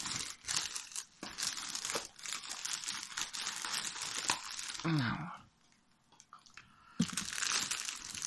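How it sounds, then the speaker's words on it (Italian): Foil wrapping on a Ferrero Kinder Sorpresa chocolate egg being opened at Easter, with close, loud crinkling and crumpling that runs in dense bursts, a brief quieter pause, then more rustling; a voice is briefly heard. "intanto apriamo l'ovetto ok"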